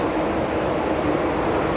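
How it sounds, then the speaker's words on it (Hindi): A train hauled by a WAP4 electric locomotive arrives as a loud, steady rumble of a rolling rake. The broadband roar is close and continuous, without distinct clicks or a horn. "चलिए भाई WAP4 के साथ आ रही है हमारी ट्रेन"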